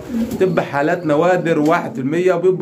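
Pigeons coo softly in the background of a pigeon loft while someone talks over them throughout.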